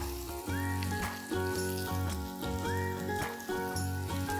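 Zunka vadi, Maharashtrian gram-flour squares, shallow frying in hot oil in a pan, a continuous dense sizzle and crackle under a loud tonal background, close and steady, no talk.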